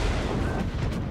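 Ship guns firing in a naval video game battle against a Kurfurst: a dense, continuous low rumble of heavy gunfire and booms filling the whole moment, loud and without talk.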